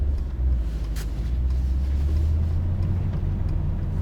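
A 2022 Mercedes SL63 AMG making a tight low-speed turn with rear-wheel steering, its engine a steady deep rumble heard from inside the cabin, continuous and moderately loud.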